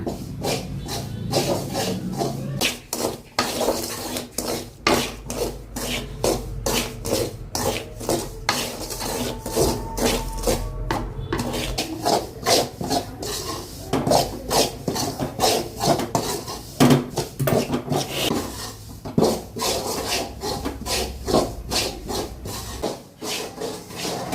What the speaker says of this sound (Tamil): இந்த மாவு ஃபுல்லாக நான் வறுத்துட்டேன்.